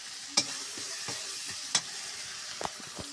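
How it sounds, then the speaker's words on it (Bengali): Chicken with crushed garlic and fried onion cooks in a pan on a gas stove. A soft, steady sizzle runs underneath a few sharp stirring scrapes and knocks, fairly quiet and close, with no talking. "রান্না চলছে চুলোর উনুনে।"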